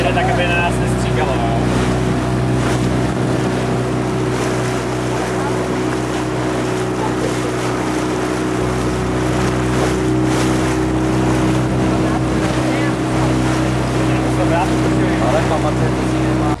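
A motorboat engine drones steadily while the hull slaps over waves and wind rushes past near the Lipari Islands, with voices talking now and then over the noise.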